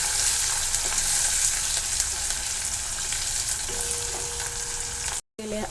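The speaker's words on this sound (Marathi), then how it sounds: "कोथिंबीर थोडीशी आपण तेलामध्ये टाकून घेणार आहे देखील व्यवस्थित तेलामध्ये परतून घेणार आहोत" Chopped onion and fresh coriander sauté in hot oil, giving a steady, close sizzle with faint stirring scrapes throughout, broken by a brief dropout near the end.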